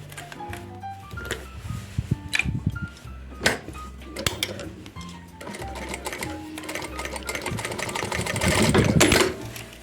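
A sewing machine runs a holding seam under 5 mm from the edge of a window pouch, its motor whirring in bursts of rapid stitching with short pauses and clicks, building to a longer, louder run near the end.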